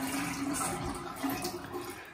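Water gushes strongly from a faucet with its aerator and filter removed, a steady close splashing flow with no voices.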